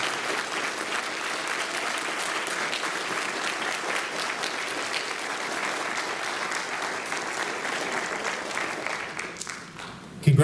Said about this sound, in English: Let's hear a round of applause for this year's inductees.